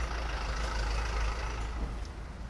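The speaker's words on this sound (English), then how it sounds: "And obviously a lot more traffic, more noisy." Steady low rumble of street traffic in a Tokyo neighbourhood near Shin-Koiwa Station, with trucks and buses idling and passing and a brief air-brake hiss near the end, continuous and moderately close.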